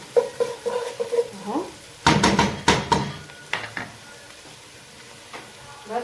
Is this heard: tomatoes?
yes